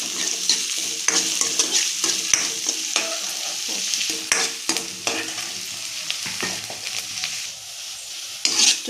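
Chopped onion and green chilli frying in hot oil, with a steady sizzle and frequent scraping stirs of a spatula against the pan, close and continuous without talk.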